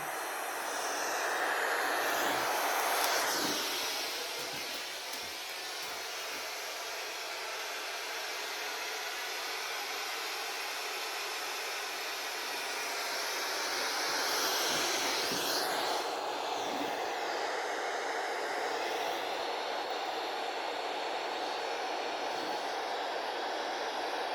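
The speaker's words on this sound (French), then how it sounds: "Là, j'ai mis simplement un bruit blanc." Loud, steady white noise from a ghost-hunting device during a paranormal investigation, a dense hiss that swells and eases slowly over the whole stretch, with no talk over it.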